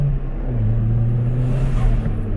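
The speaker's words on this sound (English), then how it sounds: "You can actually hear the turbo now." Toyota Starlet with a turbo, a boost controller and a performance tune, heard as a close, steady engine drone that swells slightly while cruising. A faint turbo whine rises near the end.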